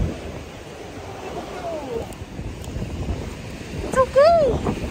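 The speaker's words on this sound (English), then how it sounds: "Nakakatakot yung waves kasi sobrang lakas." Strong waves roll in at a shoreline park on a cold, windy day, a rough roar of surf and gusting wind buffeting the microphone, with a brief high voice cry near the end.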